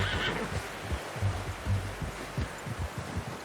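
A horse in Red Dead Redemption 2 gives a soft whinny, followed by a quiet, rhythmic thud of hooves and light rustling, faint and close.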